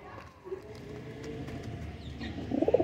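A pair of teddy pigeons coo softly close by, with low throaty murmurs building into a cluster of coos at the end over faint background noise, with no talk.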